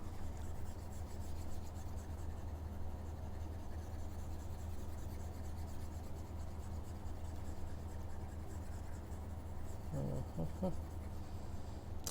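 Steady rubbing scrape of writing being erased from a board during a maths lesson, continuous and fairly close throughout, with a few brief knocks near the end.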